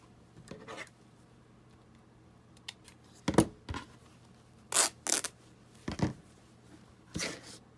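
Short dry rips and crackles of cardboard from a macaroni and cheese box being torn, several brief bursts spaced irregularly, close and quiet with silence between them.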